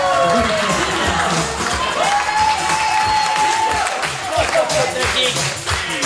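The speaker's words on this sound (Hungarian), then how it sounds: "egy nagy tapsot nekik!" An audience at a comedic Hungarian wedding celebration claps and cheers in a loud, continuous burst of applause, with talking mixed in.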